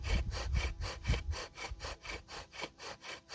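Ceramic spindle worked back and forth into wood to build friction dust, a close rhythmic scraping with about a dozen even strokes, softer toward the end.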